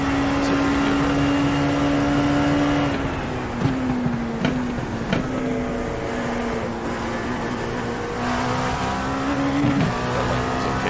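An LMP2 prototype race car laps Sebring in the iRacing sim, its engine a steady high drone that rises and falls through gear changes, with brief sharp shifts and braking dips, continuous throughout.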